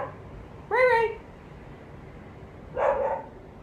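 A puppy named Ray barks outside, two separate barks a couple of seconds apart, heard from a distance through a window over low background noise.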